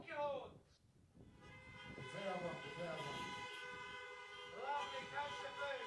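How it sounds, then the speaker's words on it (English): Car horns honking at a drive-in event, several toots and blasts from different vehicles at the start and again near the end, with a crowd of voices talking in between. "if you're eating and enjoying it, honk your horns"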